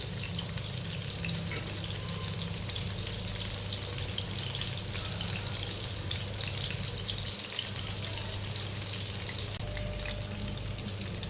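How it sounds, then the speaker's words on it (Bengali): Pakoras deep-frying in a pan of hot oil give a steady, dense sizzle with fine crackling, close and continuous, no voices. "এগুলো আমরা তুলে নিচ্ছি, আবার এই একইভাবে বাকি পকোড়াগুলোও আমরা ভেজে নেব"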